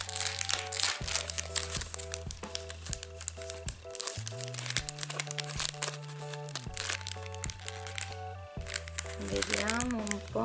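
Crinkly plastic packaging of a 30-piece set of dessert-shaped kawaii stickers being opened, with close crumpling and crackling bursts under steady background music.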